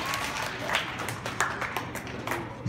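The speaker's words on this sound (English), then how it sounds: "please give our sixth grade panel a round of applause" Audience applause for a sixth grade panel at a middle school orientation, a moderate, steady patter of clapping with scattered louder claps, lasting a few seconds.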